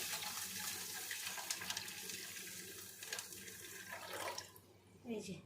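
Water streams into a cooking pot with cardamom to make sugar syrup, a steady close splashing flow that tapers off near the end.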